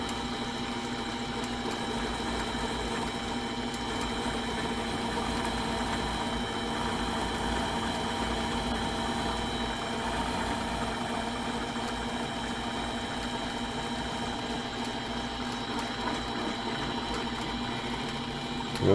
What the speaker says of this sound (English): this next one should be quite a lot of grinding